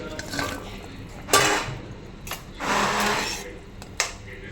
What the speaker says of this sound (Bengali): এর মধ্যে আমি কই মাছগুলো দিয়ে দেবো এবারে আমি মাছগুলো দিয়ে দিচ্ছি